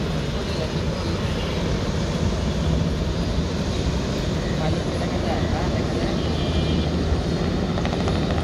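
Steady, loud rotor and engine roar of a helicopter close by as it prepares to land at Dhaka airport, a dense continuous drone without pause across the whole stretch.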